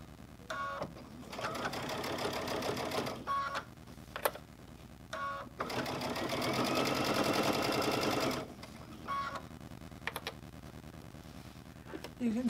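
Sewing machine stitching a honeycomb quilt block in several bursts of steady rapid needle chatter, the longest running about three seconds, separated by pauses with soft clicks and handling noises.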